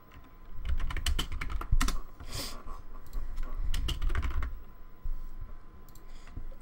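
Typing on a computer keyboard in bursts of quick, crisp key clicks close to the microphone, with short pauses between runs and no talking.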